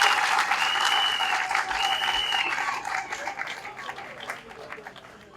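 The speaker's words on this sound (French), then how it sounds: "On applaudit d'abord pour lui." Audience applause for an engineer, honored at a gathering, loud clapping at first that gradually fades, with a few voices calling out over it.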